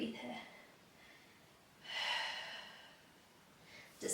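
Soft, close breaths during a Pilates stretch for runners: a few quiet airy inhales and exhales spaced a couple of seconds apart over a hushed room.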